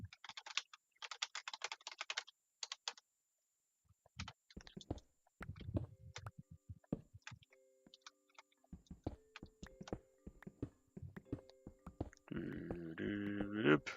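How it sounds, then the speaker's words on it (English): Fast, aggressive typing on a computer keyboard, with bursts of sharp close key clatter separated by short pauses, and a tonal game sound near the end. "as you hear my aggressive typing."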